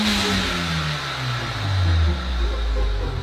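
A sports car engine revs loudly and continuously, its pitch sliding down from a higher rev toward a lower drone, close by with no talk over it.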